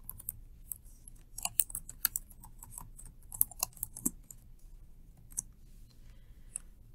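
Keys clatter in a quick, uneven burst on a computer keyboard while text is edited in Microsoft Publisher, with sharp close taps and a few louder strokes, no talking.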